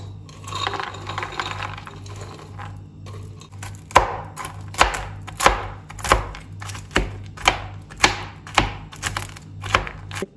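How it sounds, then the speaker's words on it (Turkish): A green apple being grated by hand, with a soft rasping stretch at first and then a steady run of about ten evenly spaced, crisp strokes up close. "Yeşil elma da rendele."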